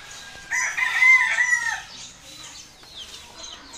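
A rooster crows loudly among clucking chickens inside a backyard coop, one long call rising and fading over a faint ambient hum, with no talking.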